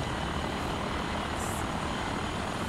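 Helicopter flying at treetop height over Spain and the Pyrenees in the FlightGear flight simulator, a steady, dense engine and rotor drone held at an even loudness throughout, with no voices over it.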